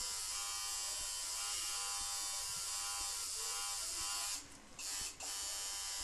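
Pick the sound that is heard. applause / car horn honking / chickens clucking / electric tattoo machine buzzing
electric tattoo machine buzzing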